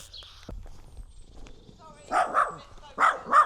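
A dog barks in a forest, three or four fairly close, loud barks in a short burst after rustling and quiet trail sounds.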